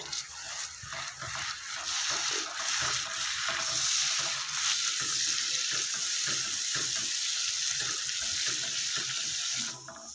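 Ground masala mixed with about 250 grams of whisked yogurt for fish curry fries over a medium flame, a steady close sizzle that runs evenly before briefly dropping off.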